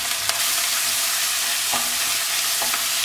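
Onion, crushed garlic and ginger frying in coconut oil for a Kerala-style liver roast, a loud continuous sizzle close by, broken by a few sharp clicks from a spoon against the pan.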